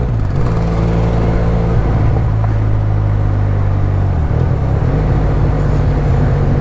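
A car is held in third gear on a foggy national highway, its engine drone loud and continuous with steady low rumble and road noise, the pitch shifting slightly as it cruises, no talking.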